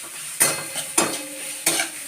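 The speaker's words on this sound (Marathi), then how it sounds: "आता आपण यात बटाट्याचा पीस टाकून देऊया, चांगला परतून घेऊया।" Potato pieces fry in hot ghee for upvas sabudana khichdi, a steady sizzle broken by three sharp scraping stirs of a spatula against the pan.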